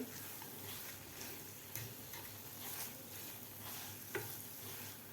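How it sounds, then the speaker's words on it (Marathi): Coconut and jaggery filling for fried modak being sautéed over a low flame, giving a faint, steady sizzle with a few soft stirring scrapes and light clicks, no voices. "बारीक गॅसवरच आपल्याला हे सारण परतून घ्यायचं आहे"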